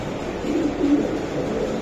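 A racing pigeon from the BRPFC club gives soft, low cooing close by, a short burst of murmuring coos over faint background noise.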